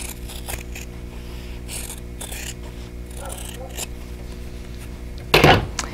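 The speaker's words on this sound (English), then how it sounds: "So I'm going to use my scissors again." Scissors snip through quilting fabric along a drawn line, a brief sharp crunch of cutting near the end after a stretch of quiet room noise.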